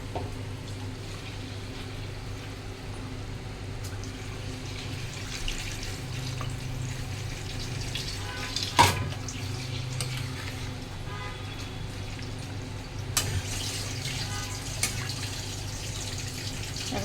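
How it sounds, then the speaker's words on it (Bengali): Water poured into a simmering potato, tomato and capsicum curry, a continuous soft running-water sound with a couple of sharper splashes and clinks. "এবার আমি জল দিয়ে দেবো।"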